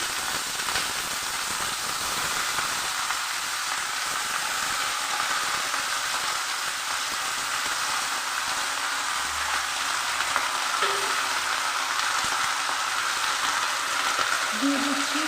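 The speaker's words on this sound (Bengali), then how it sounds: "একটু হালকা করে আমি ভেজে নিচ্ছি খুব লাল করব না" Kulekhara greens frying lightly in a pan, a steady close sizzle like rain that holds unbroken throughout, with faint occasional stirring.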